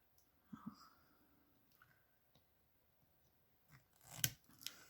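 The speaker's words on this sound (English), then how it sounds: "we're just going to take that off, you know, with our snippers and everything will be fine. So let's do a couple little snips" Metal snippers make a couple of short clipping snips while trimming a butterfly coaster, with a louder cluster of crisp cuts near the end and faint handling noise between.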